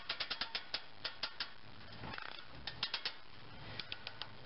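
A 9-amp corded drill cranks the roof lift mechanism of a folding camper, producing quiet, rapid ratcheting clicks in uneven bursts with short pauses between them.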